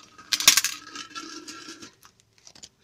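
Silver-bearing electrical contacts are poured from a bag into a pile, making a close metallic clattering jingle that peaks early and then thins into scattered small clinks as the pieces settle.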